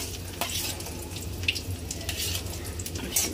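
Chopped garlic frying in a hot pan gives a steady, close sizzle that runs without pause, with faint clinks of cookware and no voices.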